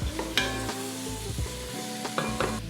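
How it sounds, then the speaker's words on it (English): Ribs being stirred in a pot of softened ingredients for BBQ ribs, a run of scraping, clattering stir strokes over a steady low sizzle, close and fairly loud with no talking. "Give those a little stir."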